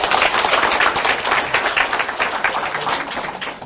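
Applause from an audience at a Korean business presentation, dense steady clapping filling the room from start to finish, loud and close with a faint murmur of the crowd mixed in.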